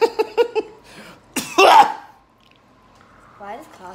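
A quick burst of several sharp coughs, then a harsh throat-clearing rasp, followed by quiet and a brief voiced sound at the end.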